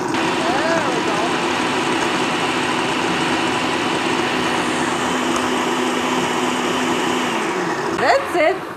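A blender on its low setting whirs steadily as it purées a meatball mixture with water, a loud, continuous motor hum with a churning edge that runs nearly the whole time before winding down near the end.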